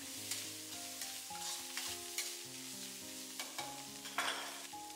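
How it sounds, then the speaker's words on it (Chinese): Seasoned shredded white radish stir-fried with a spatula, with salt, pepper, soy sauce and oyster sauce added, sizzling steadily while the spatula scrapes and tosses in irregular strokes; close and moderately loud, with no voices. "继续用铲子翻炒均匀"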